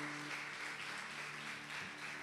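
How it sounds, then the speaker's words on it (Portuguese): A Baptist church congregation in São Francisco do Conde applauds during a service, a soft, steady sheet of many hands clapping heard from a distance, with a faint low hum beneath. "Vamos aplaudir o nome do Senhor Jesus."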